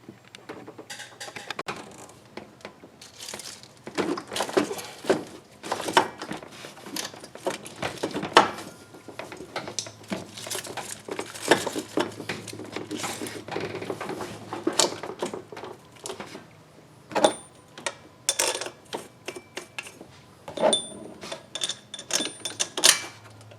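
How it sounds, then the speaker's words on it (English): A wrench tightens the fuel line fittings on ported fuel rail fittings of a Duramax diesel engine. Close, irregular metallic clicks and ratcheting taps come in bursts with short pauses, and no one speaks. "We'll get that line tightened down and get the pump put back in"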